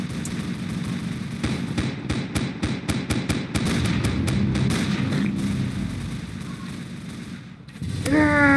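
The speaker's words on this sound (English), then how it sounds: "Mini gun." A minigun fires in the Roblox game Zombie Rush, a rapid string of sharp, evenly spaced shots that runs for several seconds over a dense, loud game mix, then stops before a brief rising tone at the end.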